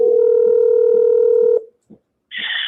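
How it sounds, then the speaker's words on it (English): A steady telephone dial tone hums for about a second and a half, then cuts off, followed by brief faint sounds and a higher electronic tone. "Anybody else hear the dial tone?"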